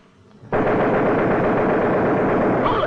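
Machine gun fire aimed at a moving target in an instructional cartoon erupts suddenly after a quiet moment, then runs as one loud, dense, unbroken burst of rapid shots that stays close and steady to the end.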